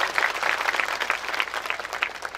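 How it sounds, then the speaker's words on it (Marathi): A large crowd at a public event in Amravati claps loudly to welcome the film star Govinda, a busy, rippling wall of applause that holds steady from start to finish. "आणि जोरात टाळ्या वाजून गोविंदाजींचं स्वागत करा"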